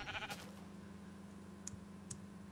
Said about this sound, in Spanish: Joder, es una fiesta hardcore aquí de ovejas.